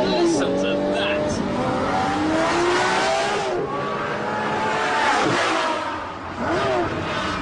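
A Lamborghini Murcielago LP640 is floored, its engine howl climbing in pitch, dropping briefly at gear changes and climbing again, loud and close.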